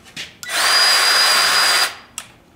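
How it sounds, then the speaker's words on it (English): A Milwaukee cordless grease gun, its dial set to four pumps, whirs loudly and steadily for over a second as it pushes grease into a fitting, with short clicks before and after. "I've set the dial to 4, which indicates that it's going to put 4 pumps of grease into this greaser."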